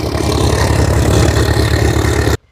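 A Swaraj 855 or Holland tractor engine coupled to a rotavator runs loud and close with a steady low throbbing drone, then cuts off abruptly at the end.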